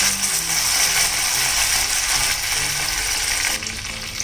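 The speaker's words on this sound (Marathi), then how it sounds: "तेल तापलं की त्यामध्ये मोहरी घालूया थोडीशी मिरची घालायची आहे" Mustard seeds, a chilli and curry leaves crackle and sputter in hot oil, a dense, continuous, fairly loud sizzle that eases slightly near the end.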